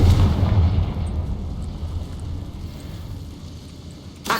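In Hogwarts Legacy, a Confringo fire spell bursts with a deep, booming explosion at the start, then fades into a low rumbling tail that dies away over a few seconds.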